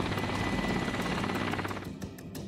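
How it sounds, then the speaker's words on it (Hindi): An Mi-8 military helicopter in flight makes a loud, continuous rotor thumping over a dense engine roar, holding close and steady throughout with no talk. "Mi-8 हेलीकॉप्टर से भयानक हमला।"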